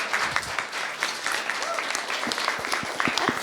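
An audience applauding during a body language talk, bursts of clapping from a group, fairly close and lively, with some overlapping chatter in the room.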